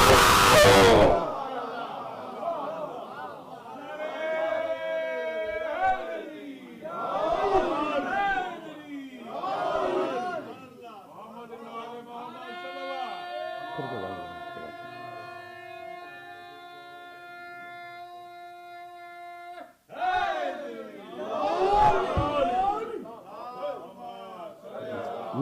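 A congregation at a Muharram majlis in Chicago chants religious slogans in loud, surging call-and-response bursts, separated by a long sustained tonal chant and brief pauses.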